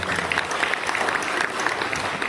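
Dense clapping from a crowd welcoming schoolchildren at a school ceremony in Purwokerto, steady and loud throughout without a break.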